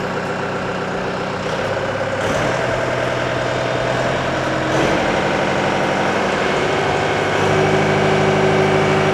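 Yanmar 348a tractor diesel engine running steadily with raised RPM, a loud continuous close drone that climbs slightly in pitch in steps as the revs are pushed higher.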